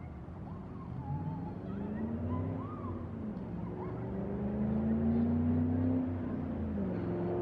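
A Ford Mustang 5.0 drives up and down a street near a park, its engine a low rumble in the background that swells gradually and then eases off.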